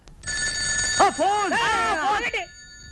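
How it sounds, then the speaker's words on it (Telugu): A telephone rings with a bright electronic trill, its tone wavering and warbling for about two seconds, loud and close, with no talking. "ఆ ఫోన్ నాది. వచ్చే ఫోన్ నాకు వస్తుంది"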